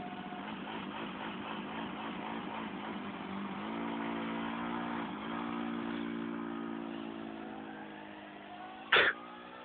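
A Babetta 228 moped engine runs with a buzzing two-stroke note that climbs and settles through revs, holding a steady drone, then ends with a sudden short burst near the close.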